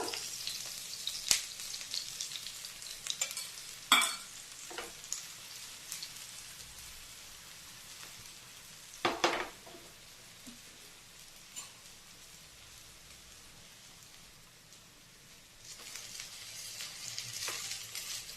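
A breakfast mixture fries in oil in a pan, giving a soft, steady sizzle with a few louder crackles and stirring clatters scattered through, with no talking.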